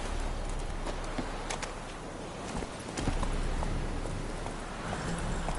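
Roach the horse galloping in The Witcher 3, rapid clip-clop hoofbeats pounding steadily and close over a dense, noisy rain-like background, continuous throughout.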